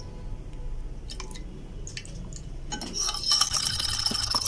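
Milk is poured into a bowl of eggs beaten with black pepper and salt: a few faint clinks and drips come first, then a short, close splashing pour.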